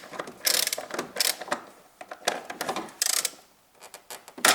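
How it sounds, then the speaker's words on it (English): Metal wrench clicking and turning a bolt on a 2004–2009 Toyota Prius during work on the mass air flow sensor, a close, irregular series of short ratcheting clicks and taps with brief pauses between them. "I use my wrench and I install that in here, and then I rotate that"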